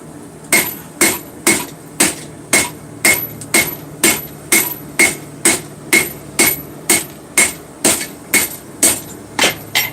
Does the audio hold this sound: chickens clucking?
no